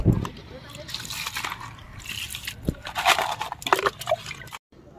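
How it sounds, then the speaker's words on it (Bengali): Peeled prawns being rinsed by hand in water for a Bengali lau chingri curry, with close, irregular splashes and trickling dribbles that swell and fade over several seconds. "তো এখানে আমি চিংড়ি মাছগুলো খুব ভালো করে ধুয়ে নিচ্ছি।"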